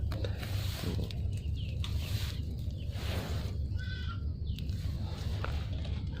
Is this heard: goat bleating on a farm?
yes